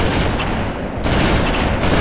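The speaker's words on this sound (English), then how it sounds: "Someone shot me!" Loud, dense gunfire from the Halo 3 video game on the Construct map rattles on without a break for about two seconds, a constant barrage of shots.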